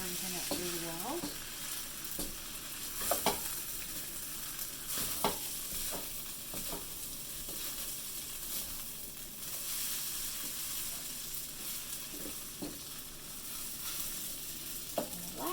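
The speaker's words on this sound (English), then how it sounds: "Stir everything up really well." Japanese fried rice with soy sauce sizzles steadily in a pan while a utensil scrapes and stirs through it, giving repeated close clacks and scrapes over a constant hiss, with no voices.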